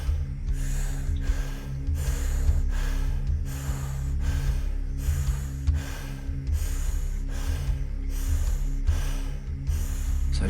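Strong, steady breathing during a breathwork exercise: about a dozen forceful, evenly spaced breaths, loud and close, over a constant low droning background.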